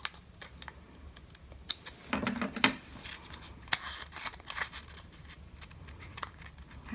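Scissors trimming a DIY paper bookmark make soft, scattered snips and rustles, close and fairly quiet, with no talking.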